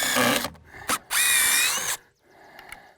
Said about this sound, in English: Be careful when you're taking screws out of wood.